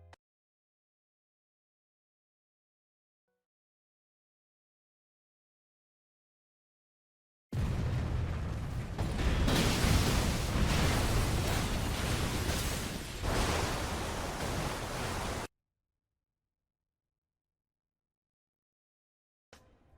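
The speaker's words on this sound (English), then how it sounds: "The comet fragment still hits the town, destroying it." A comet fragment strikes a town and destroys it in an animated film, heard as one sustained roaring explosion lasting several seconds between stretches of silence.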